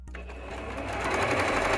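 A sewing machine stitches dance costume fabric close by, its rapid motor whir and needle clatter building steadily louder over a couple of seconds with no talk.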